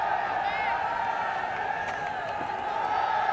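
Stadium crowd at a cricket ground before a Bangladesh versus New Zealand T20 international, a steady murmur of many voices with scattered whoops and faint cheering spread evenly throughout, with no single sound standing out.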